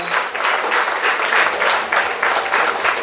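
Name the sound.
audience applause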